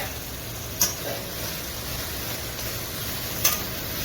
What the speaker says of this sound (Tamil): நல்லா வதக்கணும்.